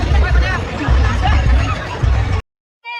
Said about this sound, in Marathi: तर मित्रांनो गर्दी बघू शकता तुम्ही.